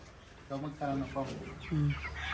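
White chickens cluck in short bursts at close range while being fed, a voice murmuring under the calls.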